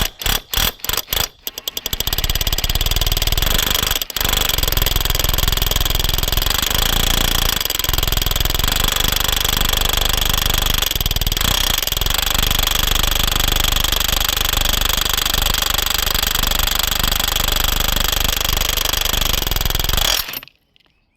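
A hammer drill pounds through a roof ridge tile during dry ridge fitting, a loud continuous rapid hammering and motor whine sustained for about eighteen seconds after a few short start-up bursts, then cutting off abruptly.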